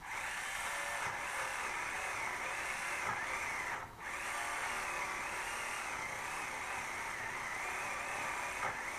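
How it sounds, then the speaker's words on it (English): A small Tamiya router cutting thick plastic on a model build runs as a steady, loud high-pitched whine throughout, with a brief dip in the middle before resuming. "grab my little Tamiya router."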